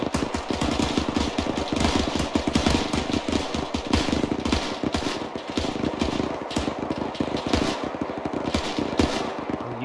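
A .30 cal machine gun fires in a video game as sustained, rapid automatic bursts that stay loud and dense from start to finish, with no talk over them.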